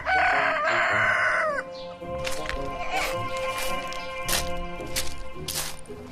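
A rooster crows loudly and close at the start, then hens cluck in short repeated bursts around a village yard.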